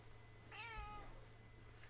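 A pet cat begging for food gives a single drawn-out meow, close and fairly soft, over a low background hum.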